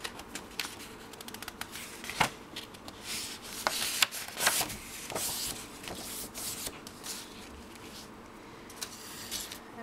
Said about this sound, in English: I am going to fold the Bristol paper into two,